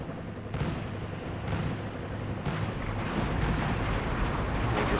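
Artillery fire pounds units in the video game Armored Brigade 2. It is a dense, continuous rumbling barrage of blasts that stays loud and close throughout.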